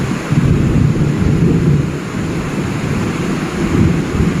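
Strong wind roars during a thunderstorm with rain at an outdoor elephant enclosure, a loud, continuous low rumbling and buffeting against the microphone throughout, with no talking.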